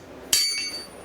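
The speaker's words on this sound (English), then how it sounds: "Random piece of metal." A random piece of metal is handled in an old barn and gives one sharp, close metallic clink with a brief bright ring. A fainter tap follows.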